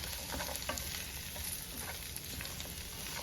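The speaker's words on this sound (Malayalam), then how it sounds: "ഈ അരിഞ്ഞു വെച്ചിരിക്കുന്ന കോവയ്ക്ക ഇതിലേക്ക് ചേർത്ത് കൊടുക്കാം നമുക്കിത് രണ്ടും കൂടെ നന്നായിട്ടൊന്ന് ഇളക്കി കൊടുക്കാം" Chopped ivy gourd and small onions sizzle in oil as they are stirred for a Kerala-style kovakka thoran, a dense continuous frying hiss with soft scraping strokes, close and fairly quiet, without talk.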